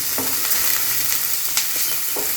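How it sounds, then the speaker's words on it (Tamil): Onions fry in a pan with salt added, giving a steady close sizzle and a few soft stirring scrapes, with no voices. "இன்னும் கொஞ்சம் ஃப்ரை ஆகணும்."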